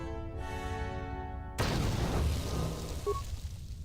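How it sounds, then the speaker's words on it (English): A sonic grenade goes off in Star Wars: Knights of the Old Republic II. A sudden loud blast cuts in midway, then its rumbling tail fades over a few seconds. "Sonic grenade should do it."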